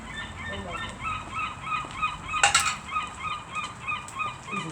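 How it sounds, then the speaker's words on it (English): Seagulls calling while being fed: repeated harsh squawks in loose bursts, fairly close, with one louder cluster of overlapping cries midway. "we've got other bullying seagulls ahead"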